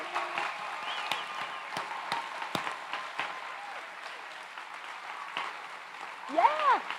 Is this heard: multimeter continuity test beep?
no